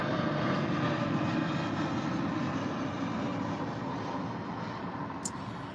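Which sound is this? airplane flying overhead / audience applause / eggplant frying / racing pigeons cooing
airplane flying overhead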